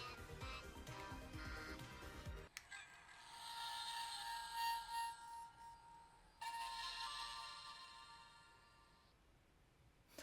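A PlayStation-themed gashapon capsule toy plays its startup chime, a bright shimmering tone with a short earlier burst, then a second sustained chime a few seconds later, sounding small and slightly distant.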